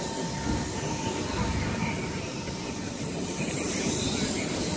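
Train bogie on locomotive 43193 squealing at a station, a steady loud rail screech with broadband rumble and a thin sustained whine throughout, no talking.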